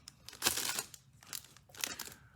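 Protective plastic bag being pulled off a Creative Stage AIR V2 speaker, a few quick close crinkles and rustles in short bursts, soft and without talk.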